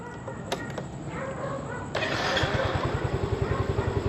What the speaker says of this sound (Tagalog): Start natin yung ating motor.